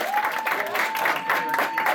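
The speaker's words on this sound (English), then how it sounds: "give a round of applause one more time" Audience applause at an anime convention quiz game styled on Who Wants to Be a Millionaire, a short burst of clapping in a hall with a sustained tone and voices mixed in.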